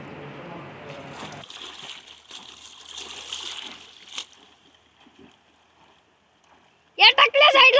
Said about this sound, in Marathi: नदीमध्ये पोहण्याचा आनंद घेताना खूप मजा येते नदीमध्ये आंघोळ करायला